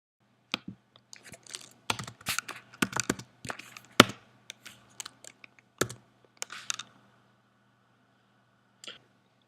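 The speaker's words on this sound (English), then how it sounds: "I'll type my name and password." A username and password are typed on a computer keyboard: quiet, close keystrokes arrive in uneven bursts with short pauses, then one final isolated tap after a gap.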